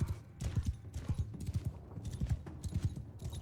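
Horse archers' horses in the Shokuho samurai game, rapid galloping hoofbeats clip-clopping in quick repeated bursts, fairly close and steady throughout without speech.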